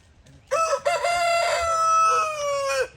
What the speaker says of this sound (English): Is that a quail or a baby chicken?